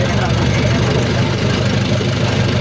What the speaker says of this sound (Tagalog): may problema pa rin yung makina namin.